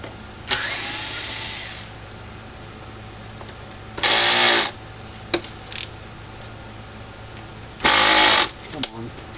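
Screws being backed out of the corners of the solar panel on a Gallagher S17 solar fence charger, heard as two loud bursts of about half a second each with a few small clicks between them and faint talk early on.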